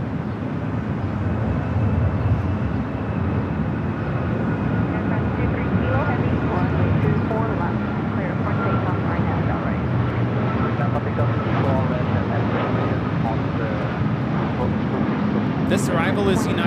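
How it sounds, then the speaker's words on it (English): A United Airlines Boeing 757-300 arriving at LAX from Honolulu, its steady broadband jet roar filling the whole stretch at a constant, close level, with a commentator talking over it throughout. "This arrival is United Airlines 1221, arriving from Honolulu on the 757-300."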